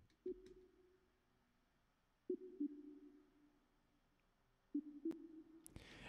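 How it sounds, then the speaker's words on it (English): Soft synth pluck from a Serum bell preset playing root notes in a song remake: three faint, spaced bell-like tones, each ringing out and decaying, with a brief click at the end. "it sounds like a little pluck that just plays the root notes,"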